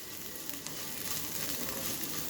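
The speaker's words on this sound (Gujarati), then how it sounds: "એ અહીંયા મેં 1 થી 2 ચમચા જેટલી કસૂરી મેથી લીધી છે, અને ફરીથી એકવાર આપણે એને સાતળી લઈશું" Dried fenugreek leaves (kasuri methi), one to two spoonfuls, sautéing in hot oil as a tempering for Gujarati kadhi: a steady, close, even sizzle with no voices.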